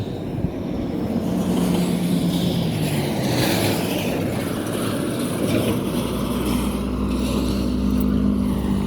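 A long vehicle passes by on a road in Labo, Camarines Norte, its steady engine drone and road rumble holding loud and close throughout, without talk.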